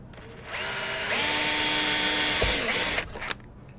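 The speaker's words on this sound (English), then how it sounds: "I just want to pre-drill these so we don't blow the edges out" A power drill whirs up and runs steadily at high speed for a few seconds, close by, drilling pilot holes in a violin, then winds down with a brief clatter.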